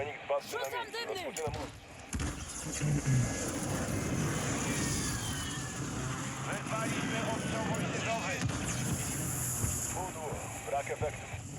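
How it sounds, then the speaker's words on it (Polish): An airstrike called in Warzone 2 brings a loud, sustained roar of aircraft engines sweeping overhead, with game chatter and voices audible at the start and end. "Dałem nalot na nich."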